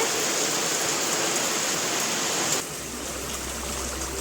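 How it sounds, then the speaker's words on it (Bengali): Heavy rain pours down outdoors in a steady, dense hiss that carries on throughout, easing slightly in level partway through, with no voices. "বাইরে প্রচন্ড বৃষ্টি হচ্ছে"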